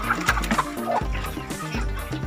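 Young chickens of about three to four months, Sisik Naga type, clucking in a coop, with several overlapping close, loud clucks and calls in quick succession.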